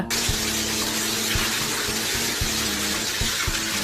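Water from a toilet flush rushes steadily and loudly up close, with a constant hiss and a few faint knocking clicks underneath and no voices.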